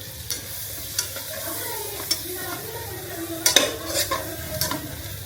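Food fries in a very hot pan, a steady sizzle broken by sharp utensil clinks and scrapes, with a louder burst of spitting as liquid goes in partway through.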